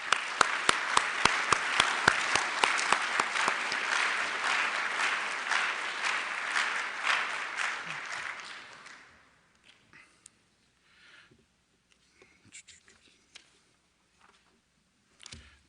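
A banquet audience at a student design competition applauds students, advisors and guests, with sharp close claps over a dense roar that fades out around nine seconds, followed by near silence with a few scattered small knocks.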